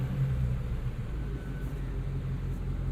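A Ford Mustang Shelby GT350 exhaust in normal mode gives a steady, muted low rumble, heard briefly from inside the car with no other sounds on top.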